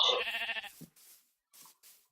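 A sheep bleats once in the Minecraft Tekkit Lite game, a short, close, wavering cry at the start, followed by a few faint, soft thuds.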